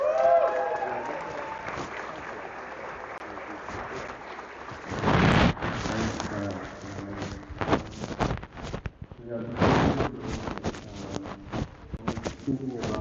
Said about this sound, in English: a round of applause for Thomas.